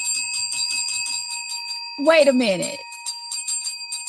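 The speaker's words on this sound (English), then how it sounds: "Why do we have two bells in here?" Two bells ring in a room, sustained bright metallic tones sounding through most of the stretch, with a person talking briefly in the middle over them.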